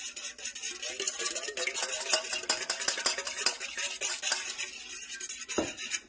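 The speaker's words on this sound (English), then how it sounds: "And then we're just going to whisk it together." A whisk clatters rapidly against a bowl, beating an egg mixture with vanilla and cinnamon in quick, uneven metallic taps, close and fairly loud, ending with a single heavier knock.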